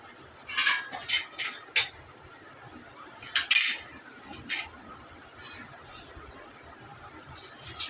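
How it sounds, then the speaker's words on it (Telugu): Knife chopping onion on a cutting board in a home kitchen, a string of sharp, fairly close taps in irregular bursts with quiet gaps between, no talking. "నూనె వేడే లోపల ఉల్లిగడ్డ కట్ చేసేస్తా."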